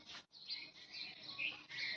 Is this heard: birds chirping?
yes